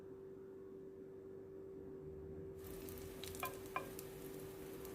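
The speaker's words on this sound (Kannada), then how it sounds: "ಸ್ವಲ್ಪ ಎಣ್ಣೆಯನ್ನು ಹಾಕಿ ಕಾವಲಿಗೆ ಬಿಸಿ ಮಾಡಿ ಶುಂಠಿ ಮತ್ತು ಬೆಳ್ಳುಳ್ಳಿಯನ್ನು ಹಾಕಿ ಸ್ವಲ್ಪ ಫ್ರೈ ಮಾಡಿ" A low steady hum gives way abruptly to a bright, continuous sizzle about halfway through as ginger and garlic hit hot oil in a pan for a simple chicken dish, with a couple of soft stirring clicks and no speech.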